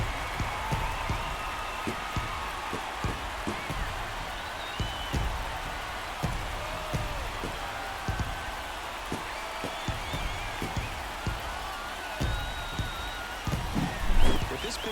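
Stadium crowd noise roars steadily after a home run in a San Diego Padres versus Atlanta Braves playoff baseball video game, with commentators talking over the dense cheering and a brief swell near the end.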